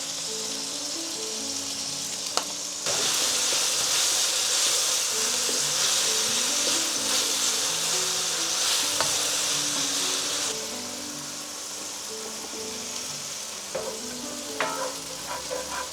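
A pan sauce of beef broth and Dijon mustard sizzles hard and steadily, with a louder hissing stretch in the middle before it settles to a lower simmer with faint utensil clicks.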